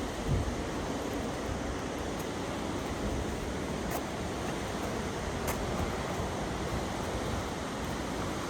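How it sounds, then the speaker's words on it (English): A raging river rushes steadily beside a forest hiking trail near Sahalie and Koosah Falls on the McKenzie River, a dense continuous roar of whitewater with no talking. "Got the raging river to our right, cascading waterfalls"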